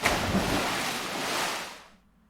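A log flume boat from the video game Dream Daddy crashes down into water, giving a loud, broad rushing splash that holds for about two seconds before cutting off.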